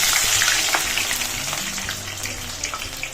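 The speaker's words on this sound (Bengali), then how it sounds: "তেল গরম হয়ে গেছে, এবার বেরেস্তা ভেজে নেব।" Onions fry in hot oil for biryani birista, giving a bright, dense sizzle with scattered pops and spatters, loudest at the start and easing slightly over a few seconds.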